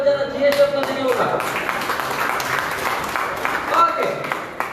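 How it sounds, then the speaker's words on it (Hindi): A crowd of students and parents applauds at a school felicitation for meritorious 10th and 12th graders, steady dense clapping filling the hall for several seconds while voices talk over it. "अगर सही है तो जोरदार तालियां बजाना चाहिए"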